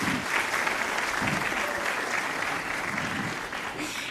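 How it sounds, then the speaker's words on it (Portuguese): A church congregation applauds together in a dense, steady burst of clapping that carries on for a few seconds at fairly full volume, with no other sound standing out. "Vamos aplaudir Jesus!"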